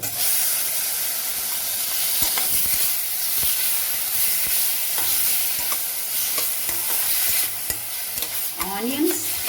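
Onion paste frying in hot oil gives a steady, loud sizzle and hiss throughout, broken by scraping stirs and a few clanks of a utensil against the pan.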